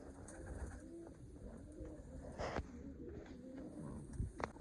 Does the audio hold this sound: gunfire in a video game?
no